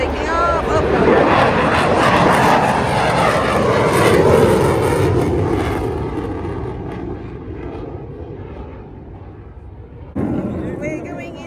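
An airplane takes off at the Royal International Air Tattoo air show, a loud, broad engine roar that swells and then fades into the distance, with a brief burst of noise near the end.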